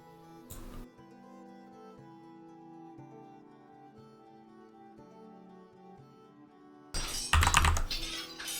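Computer keyboard arrow keys are pressed while moving troops in the strategy game Songs of Syx: a single short clatter near the start, then a dense burst of rapid key presses at the end, over steady game music.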